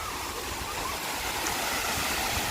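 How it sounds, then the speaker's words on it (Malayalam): Water pours over rocks at the Thripparappu falls on the Kerala–Tamil Nadu border, a close, constant roaring rush with no break. "വെള്ളം ഇങ്ങനെ നിരന്ന് നൈസായിട്ട് വീഴുന്നതാണ് നല്ല രസമുണ്ടല്ലേ."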